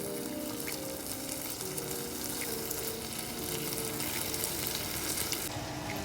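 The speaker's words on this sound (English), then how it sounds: "Let it get a sizzle." Eggs and steak with garlic sizzle in a pan on a stove inside a semi truck cab, a dense, continuous crackle that stays at an even level throughout, with no voices.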